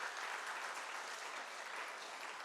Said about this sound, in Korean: 우리 부모님들 자녀들에게 큰 격려의 박수 한번 보내주시고 축하의 박수